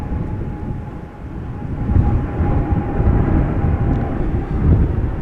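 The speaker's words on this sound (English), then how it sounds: "a triple is taking off from center" A Boeing 777 takes off from the center runway, bound for Shanghai, as a heavy low rumble that swells midway and stays strong and continuous, with no talk.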